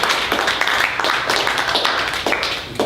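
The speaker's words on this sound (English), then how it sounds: "Please clap for yourselves one more time." Audience at a spoken-word poetry event clapping steadily for about three seconds, a dense, close wash of hand claps with no speech over it.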